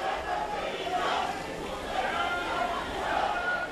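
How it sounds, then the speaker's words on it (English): A crowd outside a Turkish courthouse yells and chants as dozens of coup-trial suspects are paraded inside, a steady, dense roar of many voices at mid distance with no single voice standing out. "amid a crowd yelling, "We want the death penalty.""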